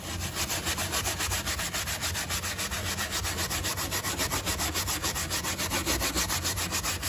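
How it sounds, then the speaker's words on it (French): Steady, rapid scrubbing of an aluminium scourer against a dishwasher's interior surfaces, loud and close, continuous rhythmic rubbing strokes with no talking. "on prend un frottoir à alu et on frotte"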